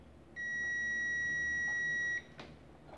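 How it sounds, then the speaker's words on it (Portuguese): A multimeter gives a single steady continuity beep lasting about two seconds while probing the terminals of a microwave oven magnetron. A faint click follows in a quiet room. "Bipa nos bornes e não tem fuga para a carcaça."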